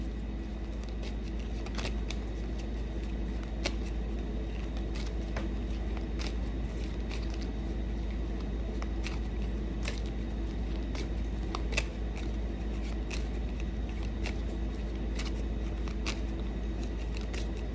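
Tarot cards are handled and drawn from a deck, giving many small, scattered card clicks and flicks over a steady background hiss, without talking.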